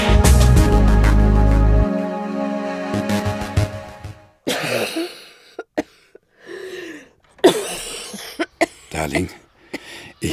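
A man in a drama scene coughs in a run of harsh bursts after loud music ends, with short silences and some talk between them.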